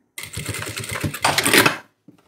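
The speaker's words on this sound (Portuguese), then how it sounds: "Então, do centro, vou encaixando e costurando, tá?" Sewing machine stitching a colourful fabric panel for a shoulder bag: a loud, steady motor whir with rapid needle chatter for about a second and a half, then an abrupt stop.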